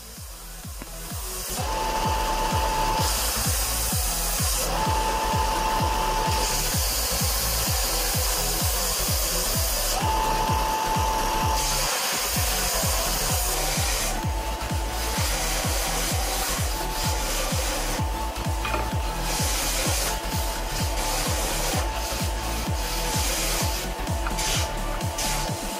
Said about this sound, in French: On les ponce.